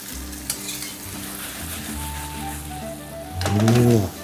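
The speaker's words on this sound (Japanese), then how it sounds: "こいつを今回移してソースと絡めていきましょう。" Pasta tossed through sizzling arrabbiata sauce in a pan, with a steady fry hiss and a brief louder surge of stirring and sizzle near the end; no one speaks.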